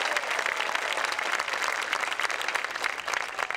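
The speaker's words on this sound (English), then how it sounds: "Let's give a round of applause to the Chiefettes on my left." A crowd at a Canton, Michigan community celebration applauds a varsity cheer team, a steady wash of clapping heard from a little distance that holds evenly throughout.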